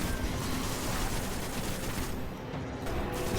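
Gunfire aimed at Shanks in the Destiny video game, Rise of Iron's first story mission, fired from a gondola: a dense, continuous stream of game shooting throughout, loud and steady with no talk over it.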